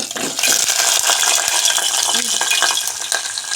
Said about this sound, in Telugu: ముందుగా అయితే ఆయిల్ వేస్తానండి. తర్వాత అయితే శనగపప్పు, మినపప్పు వేసుకుంటున్నాను.